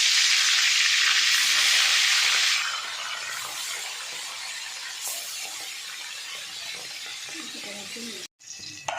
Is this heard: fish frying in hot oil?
yes